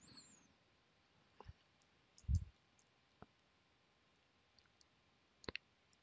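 Computer mouse clicks while working in QuickBooks accounting software, a few sparse, sharp, close clicks spaced seconds apart over a quiet background, with one duller thump in the middle.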